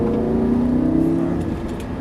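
Lamborghini LP 560-2 rear-wheel-drive accelerating at full throttle on the Dreux race circuit, engine note close and loud, rising steadily through the clip with no talk.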